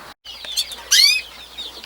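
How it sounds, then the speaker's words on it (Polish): Canaries chirp and rustle inside an enclosed shipping box, with brief scuffling and a short burst of high tweeting, close and muffled. "Te ptaszki w środku się ruszają, bo słychać, jak trafią."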